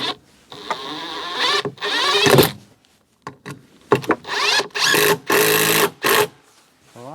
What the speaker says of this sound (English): I've got an angled drill as well.